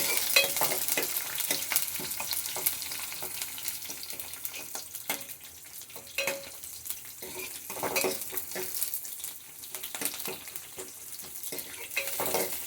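Curry leaves crackle and sizzle in hot oil for a Mangalore-style fish curry, a steady frying hiss broken by frequent sharp pops and the scrape of a spoon stirring in the pan, close and fairly loud throughout.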